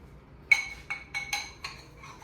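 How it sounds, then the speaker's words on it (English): A piston sliding through a ring compressor tool during a big block Chevy engine build, giving a few sharp metallic clinks and taps at uneven spacing, close and fairly quiet, with no talk. "This is why I like this piston ring compressor tool so much, because it's so easy."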